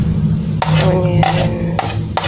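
Camote tops salad being mixed in a bowl, with several distinct scraping, clinking strokes of a utensil against the dish in a quick irregular rhythm, close and fairly loud.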